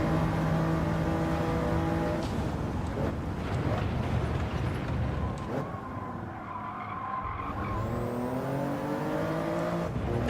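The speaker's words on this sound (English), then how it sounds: "I'm braking significantly later now because I'm trail braking correctly into the hairpin" Race car in iRacing trail braking into a hairpin: loud engine roar drops as the driver brakes, tires skid and squeal through the tight turn, then revs climb again on exit, continuous and close.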